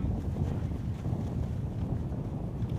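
A breeze blows across an outdoor cricket ground in Czechia, heard as a steady low rumble of wind buffeting the microphone with no voices.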